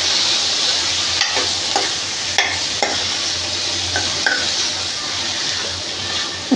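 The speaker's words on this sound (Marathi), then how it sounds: "आता गॅस बारीक करायचा आणि परतून घ्यायचं." Bean pods sauté in hot oil in a pan on low gas with a loud, steady sizzle close up, broken by periodic metallic scrapes and taps of a spoon against the pan, and no talking.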